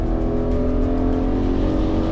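A 2020 Nissan Patrol V8 at full throttle, its engine revving hard and droning loud and steady as the SUV accelerates toward 6,000 rpm during a timed run.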